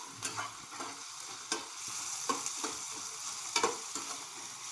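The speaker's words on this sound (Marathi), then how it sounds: "चांगले असे तळून घ्यायचे म्हणजे लाल होईपर्यंत बरं का" Onions fry in a pan toward a reddish brown, a soft constant sizzle broken by several sharp scrapes and stirring knocks of a utensil, close and fairly quiet with no voices.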